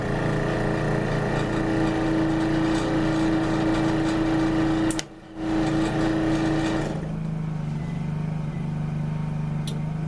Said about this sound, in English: Now it's just evacuating the air, to getting ready to seal.